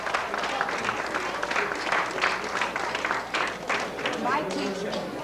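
Applause from an audience for Carmen Carrozza rises steadily and holds as a dense wash of clapping, with scattered voices and crowd chatter mixed in throughout.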